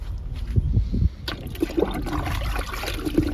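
Liquid fertilizer is poured onto garden fruit plants, with uneven gurgling splashes and trickles close by, strongest in short bursts at the start.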